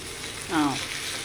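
Sardines seasoned with pepper and lemon juice sizzle in a pan with a steady frying hiss, and a short scrape or squeak marks a quick flip in the middle.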